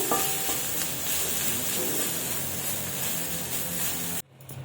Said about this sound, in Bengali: একটু একটু ভাত দিয়ে এবার সঙ্গে সঙ্গে কিন্তু এরকম ভাবে নাড়িয়ে দিতে হবে, না হলে ভাতটা বসে যাওয়ার চান্স আছে।